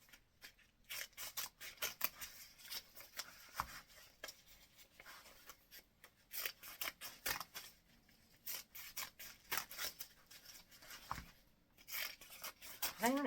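Scissors snip and slide through folded book pages, crisp cutting strokes and rustling paper coming close and fairly quiet in an irregular rhythm throughout.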